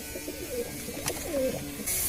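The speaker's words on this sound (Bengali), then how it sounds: "এ হচ্ছে আমাদের কবুতর একদমই অল্প কিছু কবুতর আছে আমাদের" Pigeons kept in a small home flock coo softly, with two or three rounded, throaty calls close by over a quiet background and no talking.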